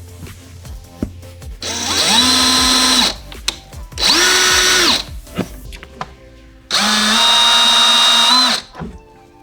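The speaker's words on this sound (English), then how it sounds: "Next, we're drilling some pilot holes for our hook screws." A power drill drilling pilot holes for hook screws whirs in three separate bursts, each spinning up, holding a steady whine for a couple of seconds, then winding down, with quiet pauses between.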